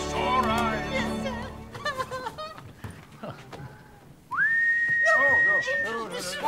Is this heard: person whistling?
yes